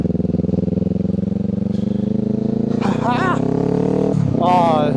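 A 2025 Kawasaki Ninja 500 parallel-twin motorcycle engine revs up quickly and loudly close by, its rising drone steady throughout with brief higher-pitched surges near the end.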